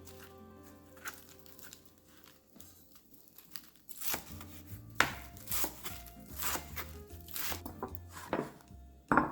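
A knife chops fresh lettuce on a board in a home kitchen, a quick run of crisp, crunchy cuts with rustling leaves, close and fairly quiet, starting after a few soft handling noises.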